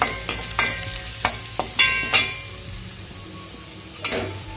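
Onions sizzle steadily as they fry in a hot pan, broken by several sharp scrapes and clinks of a spoon stirring against the metal.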